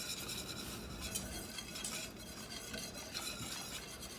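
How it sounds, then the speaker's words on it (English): Steady whisking of sauce mix in a pan warming on the stove, a dense continuous scraping and stirring hiss with faint metallic clinks, close and even throughout. "Just keep whisking it."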